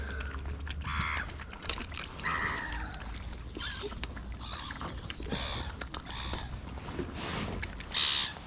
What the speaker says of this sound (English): The seagulls are going crazy.